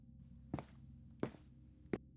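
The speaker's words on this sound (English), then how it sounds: "the sound of footsteps outside the door," Footsteps outside a door as a horror-story sound effect: three slow, heavy thudding steps spaced about 0.7 seconds apart, fairly close and isolated against a quiet low background.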